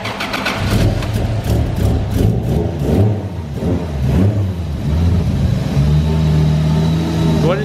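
A car engine cranks and catches after a jump start, then runs and revs unevenly before settling into a steady, loud idle close by.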